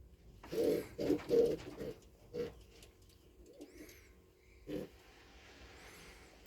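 Pigeon cooing in several low, rounded bursts, a quick cluster of three followed by two more spaced-out coos, close and fairly soft against a quiet background.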